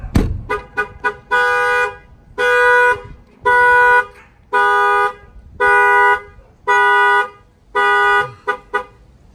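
A 2019 Nissan NV's alarm blares nearby in a steady rhythm of long, loud horn honks, about seven evenly spaced blasts preceded and followed by a few short toots.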